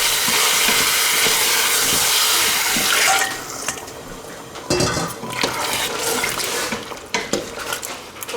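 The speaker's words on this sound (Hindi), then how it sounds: "तो इसमें हम डालते हैं उबला हुआ पानी जल्दी से" Boiled water being poured quickly into a cooking pot of aloo gosht, a loud rushing splash for about three seconds, followed by softer clinks and stirring sounds from pot and utensils.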